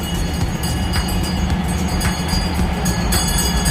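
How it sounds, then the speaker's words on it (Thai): Train rumbling steadily past at Wongwian Yai railway station in Bangkok, a loud, continuous low roar with faint rhythmic wheel clatter throughout and no talk. "ขบวนรถ"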